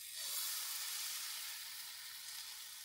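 Pumpkin batter ladled into a hot pan with a little white oil gives off a faint, steady hiss and sizzle for a few seconds, heard alone.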